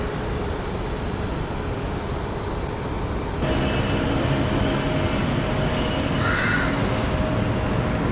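Steady roar of an elevated skytrain station at Chong Nonsi in Bangkok, loud and continuous with rumbling rail and city noise that swells midway, with faint bird calls over it.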